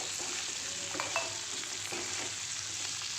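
Potatoes fry in a pan with cumin and chili powder for a pork and lai greens stir-fry, giving a close, steady sizzle with a few faint stirring clicks and no voices.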